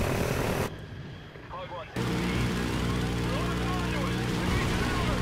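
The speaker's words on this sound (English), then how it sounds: "there's another helicopter." Rumbling helicopter engine noise in a Call of Duty: Ghosts video game, with scattered bursts of gunfire and explosions, continuous and loud, briefly dropping out before resuming under the action.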